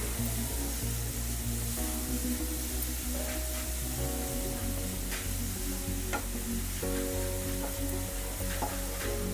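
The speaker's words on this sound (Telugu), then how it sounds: "ఒక రెండు నిమిషాలు ఎక్కువ లేదు లైట్గా వేయించుకున్నాం" Carrots for a pickle sizzle steadily in a pan, a dense continuous frying hiss with occasional stirring clicks, close and loud under a constant low tonal hum, with no talking.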